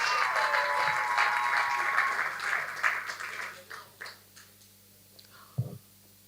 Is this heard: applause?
yes